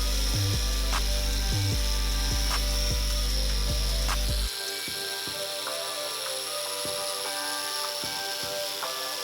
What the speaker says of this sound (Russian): Отшлифуем его сами с помощью болгарки и алмазного диска.